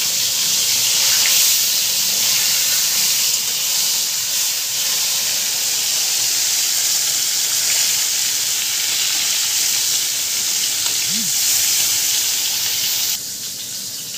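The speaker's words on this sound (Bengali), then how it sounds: "মাছটা ভাজা হোক।" Fish fries in smoking-hot oil, giving a steady, close sizzling hiss that holds evenly throughout and drops slightly near the end, with no talking.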